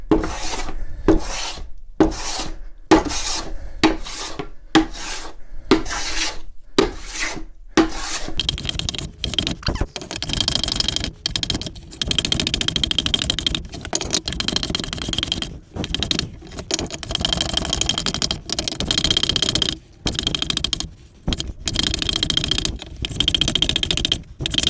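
A hand plane shaves pallet wood held on a Workmate bench, first in quick rhythmic rasping strokes separated by short pauses, then in longer, denser scraping passes, close and loud with no voices.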